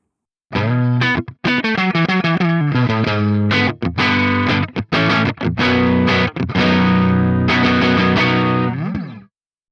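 Distorted electric guitar through an amp with the bright switch bypassed and treble fully up plays choppy chords and riffs with brief gaps, loud and close, with a full, somewhat darker tone.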